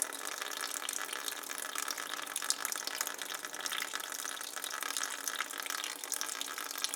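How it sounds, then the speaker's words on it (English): Water pours and splashes out of a faulty brand-new Danby air conditioner in a continuous hissing stream, steady and fairly close, with no voices. "Look how much water it's peeing out."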